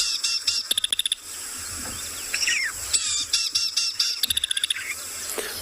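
A songbird sings its normal song at dawn, short rapid trills and chirps repeated in clusters, fairly near, over a soft background of other birds.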